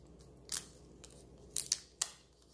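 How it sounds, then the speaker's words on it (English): Tape peeling off the screen connector of an HP Stream 11.6-inch notebook during a screen replacement: a few short, crackly ripping bursts spaced over a couple of seconds, close and fairly quiet against a faint background hum. "It should be taped on there. Let's go ahead and just peel it off."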